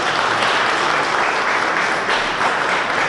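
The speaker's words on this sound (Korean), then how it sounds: "박수 부탁드립니다." Audience applause at a Korean exhibition ceremony for a family diary art show, steady dense clapping filling the room throughout, loud and continuous with no pauses.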